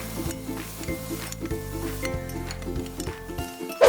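Garlic and ginger sizzle steadily in a pot of hot oil for a one-pot Taiwanese braised pork rice, a continuous close frying hiss with faint stirring scrapes and a brief louder clatter at the end.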